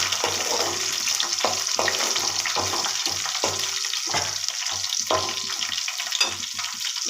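Onions, curry leaves and a few garlic cloves fry steadily in a pan with a continuous close sizzle, broken by repeated soft stirring scrapes at a loose rhythm, no voices.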